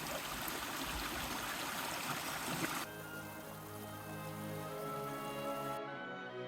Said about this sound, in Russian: Здесь ручей, написано, что питьевой